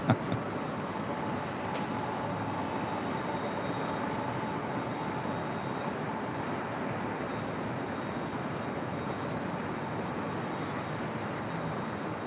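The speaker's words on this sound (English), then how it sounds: "Next arrival here on the north side is Spirit Airlines Flight 889 coming in from Columbus, Ohio. It's an A320neo." Airbus A320neo airliner arriving at LAX, a steady broadband jet roar held at an even level throughout, with no clear rise or fade.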